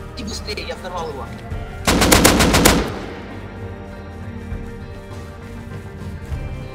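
Video game gunfire rattles in a rapid automatic burst near the middle, with scattered distant shots and a muffled boom around it, while players talk over it.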